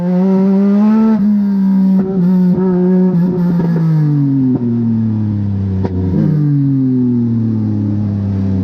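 Legend race cars roar around a wet track, one engine loud and close with a droning, harmonic note that holds, stutters through a few quick shifts and then slides lower as the revs drop.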